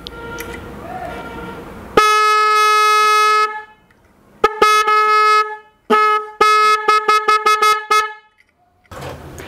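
Loud motorcycle accessory horns honk close by, two sounding together: a long blast, then a string of shorter toots in quick bursts, with gaps of quiet between.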